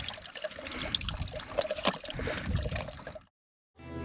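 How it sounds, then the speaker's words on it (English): Water trickles and drips steadily from a hydration bladder through a squeeze filter into another container on a high mountain hike, close and continuous for about three seconds before stopping abruptly. "you can use hand pressure or gravity drip to push it out through this filter into another container"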